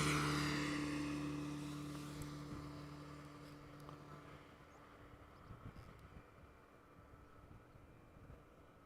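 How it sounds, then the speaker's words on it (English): A Boeing 777-200 airliner arriving at Amsterdam Schiphol from Johannesburg, a faint, distant engine roar that fades gradually as it passes, with wind rumble beneath. "777-200, arriving from Johannesburg."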